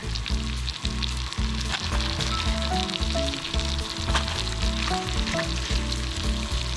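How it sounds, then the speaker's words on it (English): Bacon sizzles and crackles steadily in a pan over a camp stove at a campsite, a dense continuous frying hiss with occasional spatters, close and loud throughout. "let's get some bacon on here"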